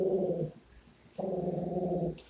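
A dachshund growls at a Roomba in two low, rumbling bursts, each about half a second to a second long, separated by a brief pause. The growls are close and fairly quiet.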